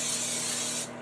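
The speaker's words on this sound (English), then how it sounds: "I'm going to go ahead and use spray" Cooking oil sprayed from a can into a pan, one steady close hiss lasting about a second before cutting off.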